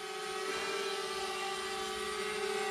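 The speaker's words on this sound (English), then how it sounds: "I haven't really flown the drone at this time of night before" A camera drone flies at sunset over floodwater country, its steady high-pitched rotor whine holding a constant tone throughout, loud and close, with no voices over it.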